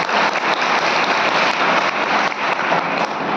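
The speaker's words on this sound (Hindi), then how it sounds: "प्रमोद जी के लिए जोरदार ताली चाहिए" Crowd clapping loudly for Pramod ji at a political gathering, a dense, steady wash of applause held throughout with no voices above it.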